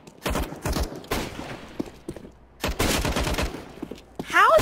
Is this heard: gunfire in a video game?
yes